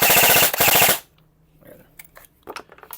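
E&C airsoft AEG rifle, an M4 or MK18 type CQB gun, fires a loud, rapid full-auto burst of close buzzing shots for about a second, then stops, leaving faint scattered clicks and handling noises.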